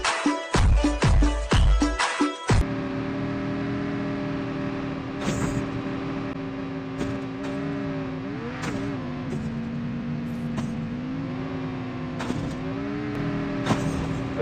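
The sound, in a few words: car driving in Call of Duty Mobile video game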